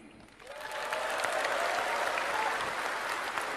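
Crowd at a political rally breaks into applause, a dense, sustained wash of many clapping hands swelling in after a quiet start and holding steady, with a few distant shouts mixed in.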